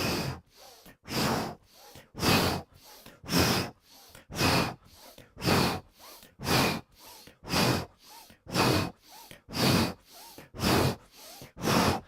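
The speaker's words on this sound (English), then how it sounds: "Inhale, nose. Exhale." Someone breathes forcefully in and out through the nose during a seated Kundalini practice, with about a dozen close, loud, evenly paced breath cycles in a steady rhythm.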